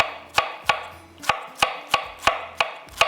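Knife chopping cabbage on a cutting board, roughly nine sharp, evenly spaced strikes in a steady rhythm, close and clear with no talking.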